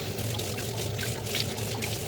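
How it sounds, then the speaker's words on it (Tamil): Tap water runs steadily as hands are washed at a sink, a continuous close splashing pour with no talk. "ஃபர்ஸ்ட்டில் வந்து ஹேண்ட் வாஷ் பண்ண போகிறேன்."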